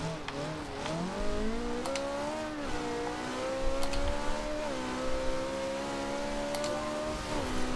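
A Ferrari 458 Italia's engine revs and climbs through gears in Forza Horizon 2, the pitch rising and dropping with each shift, loud and continuous with occasional tire noise.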